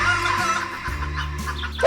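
Chickens in a Roblox video game clucking loudly and close, a run of repeated throaty clucks over two seconds with a sharper call near the end.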